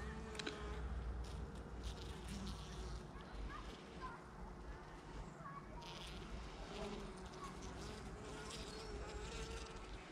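Honeybees swarm around an opened hive during a cold November inspection, a dense continuous buzzing close by with brief handling noises mixed in.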